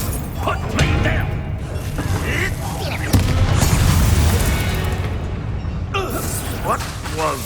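A Bombarda blasting spell explodes in Hogwarts Legacy, a loud booming burst amid dense magical combat noise, with game voices talking over the action.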